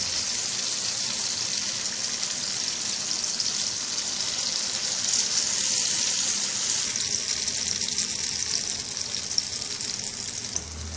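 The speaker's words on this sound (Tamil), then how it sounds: "இந்த எண்ணெயில் பொரிஞ்சு வரும்போது தாங்க டேஸ்ட்டு," Sweet paniyaram (unni appam) batter frying in oil in a paniyaram pan, giving a steady, even sizzle that holds throughout at close range with no talking.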